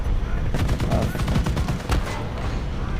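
Tank gunfire in War Thunder Mobile from a T95E1 premium tank, a rapid cluster of sharp bursts crowding the middle of the stretch over steady loud engine and battle rumble.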